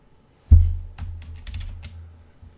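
A short burst of keystrokes on a computer keyboard during CAD drafting work in Fusion 360: a firm first tap followed by a quick run of lighter clicks, close and clear with no talking.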